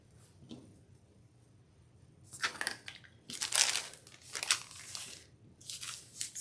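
Scissors or a cutter slicing through preprinted triangle paper laid against a ruler for quilting half square triangles, giving quiet crisp crunching cuts in several short bursts, close by with no talking.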